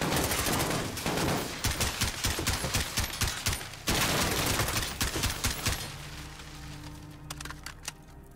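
Rapid gunfire crackles through the Fog of War mission of Call of Duty: Modern Warfare (2019), loud dense bursts for several seconds, then thinning to a few scattered, quieter shots.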